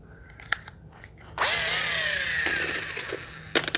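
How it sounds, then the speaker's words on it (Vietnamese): A 12V cordless drill set to hammer drill mode spins up and runs steadily for a couple of seconds with a high whining motor tone, close and fairly loud, preceded and followed by faint clicks. "mình bật qua chế độ khoan búa nè"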